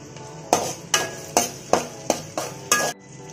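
Green chillies and curry leaves sautéing in a pan for chicken fried rice, with about seven rhythmic stirring strokes scraping the pan over a soft sizzle, close and clear.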